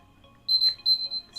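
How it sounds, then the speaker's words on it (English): Kitchen timer alarm going off for bread dough: a quiet series of high electronic beeps in short repeated bursts, fairly faint against a soft room background. "so you can hear that alarm is going off."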